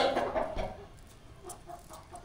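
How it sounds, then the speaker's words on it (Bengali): Several chickens cluck nearby in a farm or bird-market setting, short repeated clucks in loose bursts, louder at first and then softer. "এখানে লাল লাল কিছু মুরগি দেখতে পাচ্ছি, এগুলা কি মুরগি?"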